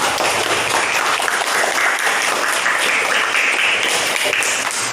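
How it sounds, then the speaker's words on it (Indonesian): A school class applauds its agreed class rules, a loud, dense burst of clapping that continues steadily and close by without letting up. "tepuk tangan untuk kesepakatan kita"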